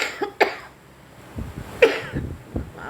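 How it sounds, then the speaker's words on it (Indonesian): Two sharp coughs from a single person, one near the start and one in the middle, close and fairly loud, followed by low murmuring and breath noises in a quiet room. "maaf ya batuk"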